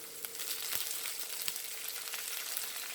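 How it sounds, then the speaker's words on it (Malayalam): Curry leaves sizzle in hot oil with green chillies and garlic for Kerala prawn pickle, a steady crackling fry close up with a few sharp pops and light stirring. "രണ്ട് തണ്ട് വേപ്പിലിട്ട് കൊടുക്കുക."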